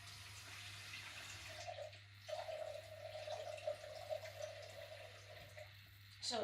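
Tap running as ice cold water pours into a measuring container, a steady splashing flow starting partway through and running continuously, close and moderately loud with no talk.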